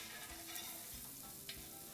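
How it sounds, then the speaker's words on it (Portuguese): Bacon frying in a pan for a stuffed polenta recipe, a steady close sizzle and crackle with a few stirring scrapes. "Em uma outra panela, coloque o bacon e deixe fritar."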